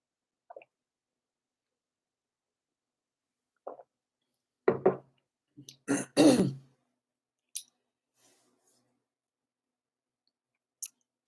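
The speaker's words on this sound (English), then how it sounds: "Let me clear my throat." A few short, sparse throat-clearing rasps close up, with quiet clicks around them and long silences in between.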